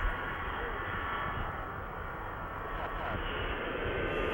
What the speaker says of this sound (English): First plane came in.